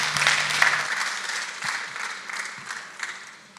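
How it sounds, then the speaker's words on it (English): An audience at a live talk event claps for a volunteer, a steady, moderately loud wash of many hands that fades slightly over a few seconds, with faint cheering mixed in. "round of applause for a volunteer."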